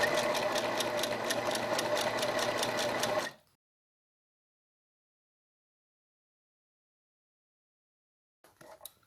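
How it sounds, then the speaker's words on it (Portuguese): A sewing machine stitches a zigzag seam on a patchwork placemat, running in a steady rapid whir for about three seconds before stopping, followed by silence and a faint brief handling noise at the end. "Vou fazer aqui uma costura de zigue-zague"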